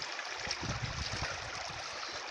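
Stream water splashing against a face outdoors in the wild, a steady close trickle and gurgle with soft slaps of water over a couple of seconds, no talking.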